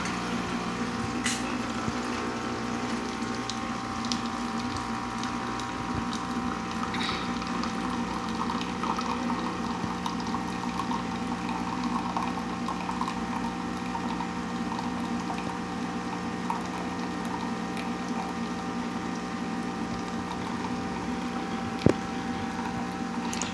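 A new home coffee machine from a delivery order dispenses coffee with a steady, even liquid pour and a constant mechanical hum that runs unbroken for the whole stretch, with one sharp click near the end.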